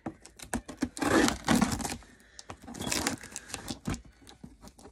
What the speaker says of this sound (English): So anyways, my handy dandy scissors.